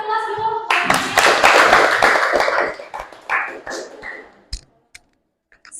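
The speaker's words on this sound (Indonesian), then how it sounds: "Kasih aplaus dulu." A classroom of students claps in a loud burst of applause lasting several seconds, with scattered voices mixed in, then tapering to a few isolated claps before silence.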